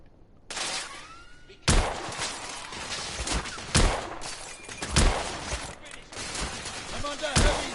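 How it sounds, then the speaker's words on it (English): Heavy gunfire in The Order 1886, loud repeated shots and bursts cracking every second or so over a rumbling battle din, with voices shouting between them. "I'm under heavy fire!"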